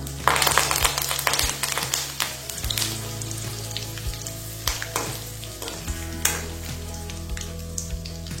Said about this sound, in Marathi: तेल आपलं गरम झालेलं आहे। त्यामध्ये अर्धा चमचा जिरे, अर्धा चमचा मोहरी, 4-5 कढीपत्त्याची पाने,